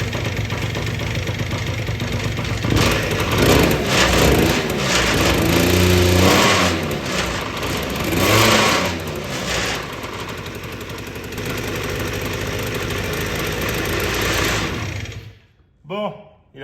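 Moped engine fitted with an Athena booster kit, big valve and 24 carburetor runs loud and rough with revving surges, then cuts out near the end; voices talk over it.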